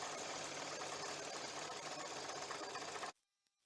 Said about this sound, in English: I'm just stitching down the centre of the foot, so the needle's going in the blue line